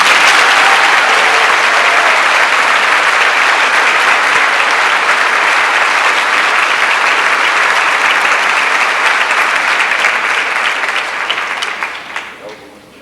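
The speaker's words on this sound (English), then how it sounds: "I'd like to give a big round of applause." Loud, sustained applause from an audience at the 1991 Coon Supper, a dense wall of clapping that holds steady and then tapers off over the last couple of seconds.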